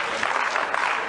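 A quick burst of dense clapping from a studio audience at a late-night television show, bright and close, lasting about a second.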